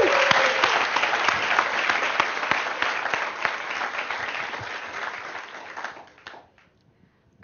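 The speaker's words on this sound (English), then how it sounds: "big, warm round of applause for Elon and Sarah Lacy." An audience greets Elon Musk and Sarah Lacy with a sustained, loud round of applause from a large crowd that holds steady for about six seconds before cutting off.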